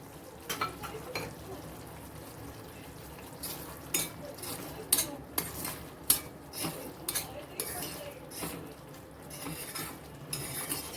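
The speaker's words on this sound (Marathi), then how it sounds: "छान आपल्याला मसाला परतून घ्यायचा आहे" A spoon stirs and scrapes masala sautéing in a pan for dhaba-style paneer angara made without garlic or onion, with quiet sizzling and irregular metallic clinks throughout.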